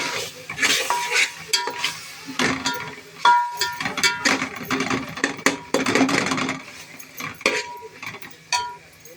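Vegetable masala with salt roasting in a pan, close spoon scrapes and clinks against metal in uneven bursts over a soft sizzle, no talk.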